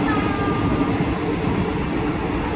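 Passenger train on Thailand's Death Railway heard from inside a carriage stopped at a small station, with a steady low rumble of engine idle and faint tonal hum, continuous and close.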